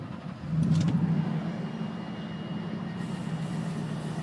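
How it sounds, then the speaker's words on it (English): A truck with dual exhausts rumbles at a low, steady idle after cranking up, a soft continuous purr heard fairly close with no one talking. "show y'all what the duals sound like on this truck when you"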